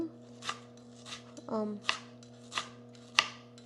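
A knife chops ginger on a cutting board in steady, well-spaced strokes, about six crisp hits, close and clear, with a brief murmur of voice partway through.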